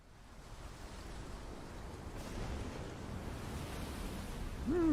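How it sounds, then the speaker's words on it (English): A steady wash of ocean surf rolls in, soft and continuous, growing slightly louder near the end. "Just waves, I guess."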